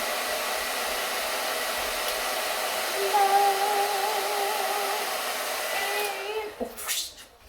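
A hair dryer running on medium heat, a steady close whirring blow that holds for several seconds and then cuts off near the end, with a few soft handling sounds as it stops.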